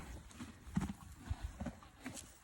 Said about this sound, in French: Le poney.